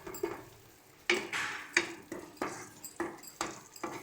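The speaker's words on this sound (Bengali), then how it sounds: "ভালো করে সমস্তটাকে মিশিয়ে নিচ্ছি।" A spoon stirring spices, salt and duck egg curry in a pan, a series of distinct scraping strokes with light sizzling, close and moderately quiet, no voices.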